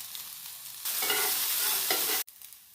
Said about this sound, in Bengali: প্যানটা গরম করে সর্ষের তেল দিয়েছি, দিয়ে দিচ্ছি একটু মিলেটস নুডল, সামান্য নুন দিয়েছি, একটু টস করে নেব